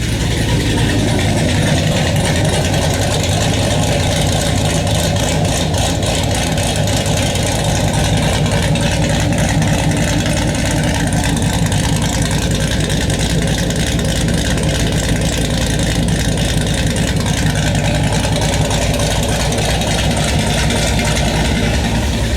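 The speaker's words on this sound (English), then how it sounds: "just so you guys can get an idea what our bigger cam sounds like" A 5th-gen Camaro ZL1 with a stage 2 cam idles loudly and steadily, close up, its lopey low rumble running unbroken throughout with no speech.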